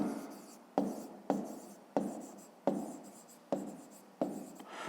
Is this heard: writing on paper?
yes